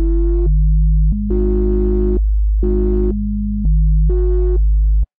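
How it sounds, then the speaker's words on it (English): A Serum software synthesizer oscillator set to a simple sine waveform plays a short bass line of sustained electronic notes, loud and clean, alternating between lower and higher pitches in a steady pattern with no voices. "this oscillator is set to a simple sine wave"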